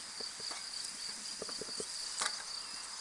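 Close insect buzzing with a steady high hum and scattered soft bumps and crackles as honeybees in an opened hive are smoked and brushed.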